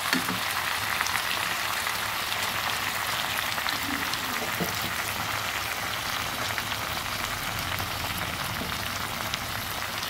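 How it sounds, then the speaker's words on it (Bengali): Water poured into a pot of cooking chicken curry hits the hot pan and sets off a loud, steady, continuous sizzle and crackle with no break. "এবার আমি জল দিয়ে দেবো।"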